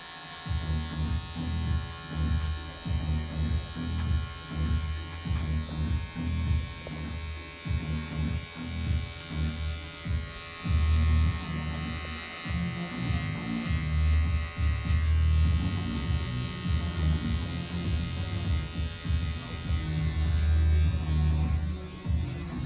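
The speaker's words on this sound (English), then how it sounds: "When you see the darkness in the hair, just use the edge of clipper." An electric hair clipper buzzes close up during a classic haircut with a taper fade, its steady whine pulsing in short rhythmic strokes as the blade works through the hair, with no voices.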